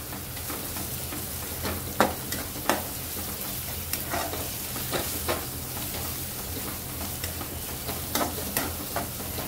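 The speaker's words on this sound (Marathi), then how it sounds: "ती सुद्धा छान परतून घेऊया तेलावरती." Ginger-garlic paste sautés in oil in a pan with onions for a prawn masala, a steady close sizzle broken by repeated light scrapes and taps of a spatula stirring at irregular intervals.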